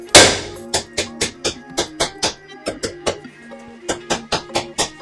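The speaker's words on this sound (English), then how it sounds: "a few good hits with a decent sized hammer will normally loosen that up" A hammer strikes a Subaru steering knuckle repeatedly, a loud ringing blow followed by a steady series of sharp clanging hits, close by.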